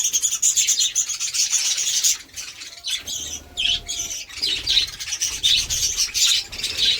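Dense, bright chirps of many small birds feeding together fill the air continuously, all calling at once with soft rustling and fluttering underneath.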